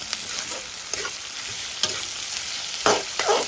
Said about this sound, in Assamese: এনেকৈ ধুনীয়াকৈ অলপ সময় ভাজি লওঁ, গল্ডেন কালাৰ হোৱাকৈ।